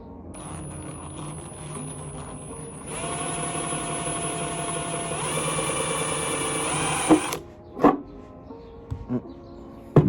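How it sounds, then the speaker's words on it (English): An electric drill whirs steadily for about seven seconds while drilling holes in a dash cluster bezel, its pitch stepping up partway through, then cuts out, followed by a few scattered clunks. "I'm just gonna drill them in."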